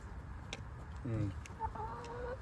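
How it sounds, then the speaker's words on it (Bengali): Hens on an organic chicken farm in Canada give soft, low clucks and brief murmuring calls, faint and close, over a steady background hum. "মাশাআল্লাহ, দেশের মুরগিগুলিও বড় হয়।"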